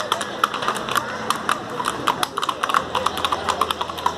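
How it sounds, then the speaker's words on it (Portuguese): Hundreds of horses' hooves clip-clop on pavement during a religious cavalcade honoring Saint George in Vassouras, Rio de Janeiro, a dense, irregular stream of close and distant hoofbeats over crowd murmur. "são centenas de cavalos aqui"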